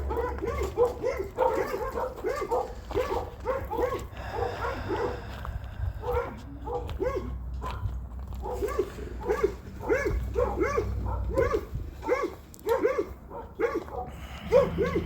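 Viridian the dog barks over and over in quick, rhythmic bursts at close range. A low, steady background hum runs underneath.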